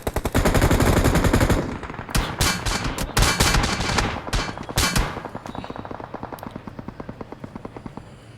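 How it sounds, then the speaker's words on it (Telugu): Loud automatic weapon fire in a shooting video game, with dense bursts and sharp shots up close that settle into a steady, rapid rattle that gradually grows fainter. "షూట్."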